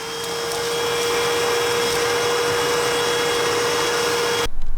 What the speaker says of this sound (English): Did a bit of a hoover up.